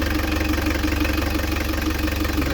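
A diesel car engine idles steadily with its immobiliser fully disconnected and removed, giving a continuous low rumble with a faint knocking rhythm, close and alone with no voices.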